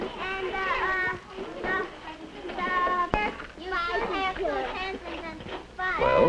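A noisy classroom of children at work in the 1950s, with many young voices chattering and calling over one another in a continuous busy din, plus an occasional sharp knock or clatter.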